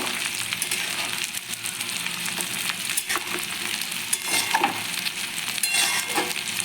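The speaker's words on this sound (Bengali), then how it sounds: "অল্প করে ঘি দিয়ে ভালো করে নাড়াচাড়া করে" Cauliflower and potato curry stirred in ghee with a little garam masala, a close continuous sizzle with scraping spoon strokes and small clinks against the pan, no voices.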